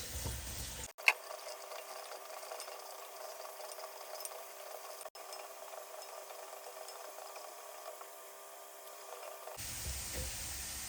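Steady crackling sizzle of carrots frying in hot oil, continuous and close, with a brief clatter near the start.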